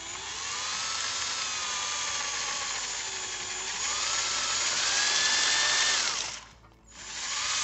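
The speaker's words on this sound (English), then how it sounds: "I'm gonna use a 5/32 drill bit" A high-pitched drill with a 5/32 bit whines steadily for about six seconds into a leaking hydraulic roof lock cylinder from a Mercedes-Benz SLK 350, pitch shifting slightly under load, then cuts out briefly before spinning up again.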